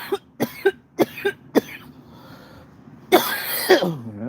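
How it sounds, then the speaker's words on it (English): A person gives several short, dry coughs in a quick series, followed by a brief pause and then a louder, rougher throat-clearing cough burst close to the mic. "it's like I just did, dry coughing it"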